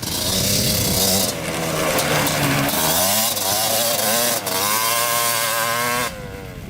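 A Suzuki LT250 two-stroke 250cc quad ridden nearby, its engine loud and buzzing, revving up and down through rising pitch sweeps before dropping away near the end.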